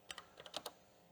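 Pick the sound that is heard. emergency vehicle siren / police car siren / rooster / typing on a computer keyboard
typing on a computer keyboard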